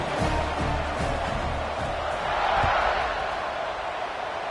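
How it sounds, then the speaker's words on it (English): Football stadium crowd roaring steadily after a kickoff, a loud continuous wash of cheering that swells midway, with an announcer's voice talking over it. "this crowd is feeling themselves after that last drive"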